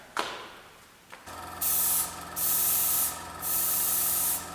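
An airbrush loaded with house paint sprays in three steady hissing bursts of about a second each, close and clear, after a couple of faint clicks at the start.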